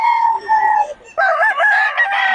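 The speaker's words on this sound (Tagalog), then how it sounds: "Lalaki ng mga manok ng Boss Randy ngayon." A rooster at a poultry market in Bocaue, Pampanga area, crows loudly and close by, with a bright, strained call that breaks off and then surges again in a second rising phrase.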